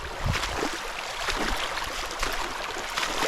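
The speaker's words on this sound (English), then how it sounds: "Beautiful little creek." A small creek flows through boreal forest in Saskatchewan, giving a steady, close babble of running water with broadband splashing texture and a few louder gurgles, with no voices.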